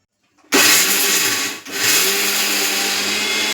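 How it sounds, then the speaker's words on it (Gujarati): A kitchen mixer grinder grinds dry chutney in loud, close bursts: it starts abruptly, whirs steadily, dips briefly when switched off, then runs again at full power. "હવે મિક્સર ચાલુ બંધ ચાલુ બંધ કરતા જઈ તેને પીસી લેશું"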